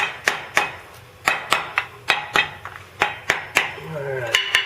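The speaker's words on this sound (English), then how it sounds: "Now if I set this down, I can tap on it a little easier." Repeated light metallic taps on a Kubota tractor front axle part, about a dozen sharp strikes in an irregular rhythm, close and fairly loud, with a brief low rumble near the end.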